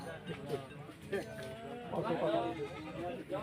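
Goats bleat at a Sunday village goat market in Surewala, their short wavering cries rising through a faint, busy background of people talking.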